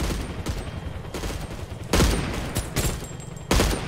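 Gunfire in the shooter game Core, rapid bursts of shots cracking out in several sharp volleys, the loudest near the end, with a continuous background of battle noise.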